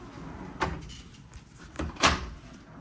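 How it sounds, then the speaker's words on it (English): A hotel room door in Amarillo is handled, with a couple of solid thuds and a louder clunk near the end, close by, with no talk over it. "whenever you walk in, this is going to be your door"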